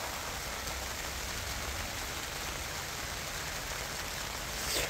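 Rain falls on a farm field newly planted with black soybeans, a steady, even hiss of drops on the ground and leaves with no voices heard.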